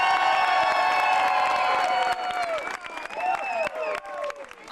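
A crowd at a log-cutting contest applauds and cheers for a competing team, with dense clapping and whoops loud throughout, easing slightly midway as scattered shouts rise above the clapping.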